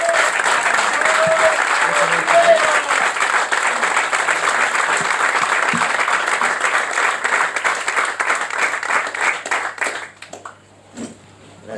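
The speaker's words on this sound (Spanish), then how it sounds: "Un fuerte aplauso para nuestro invitado." A crowd at a university faculty in Misiones claps for a guest speaker, loud sustained applause for about ten seconds that thins into scattered claps and a few faint voices.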